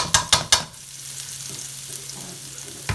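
Chopped garlic cloves dropped into a hot pan for green beans with garlic, three quick sharp clatters and then a soft, continuous sizzle nearby.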